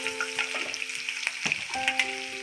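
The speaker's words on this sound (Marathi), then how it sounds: "त्याच्यामध्ये अद्रक लसूण आणि हिरवी मिरची बारीक बारीक हे टाकायचं आहे फ्राय करून घ्यायचं" Finely chopped ginger, garlic and green chilli fry in hot oil, giving a steady, close sizzle that runs the whole time with small crackles and pops.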